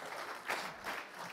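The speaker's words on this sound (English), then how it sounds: "Round of applause, everybody" Applause rises from a conference audience, a soft, distant spread of clapping from many hands that swells briefly and stays faint throughout.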